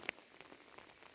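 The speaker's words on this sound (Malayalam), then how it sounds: "മഴ തന്നെ" Light rain falls outdoors, a soft, faint patter with one small sharp drip near the start, heard alone for a brief moment.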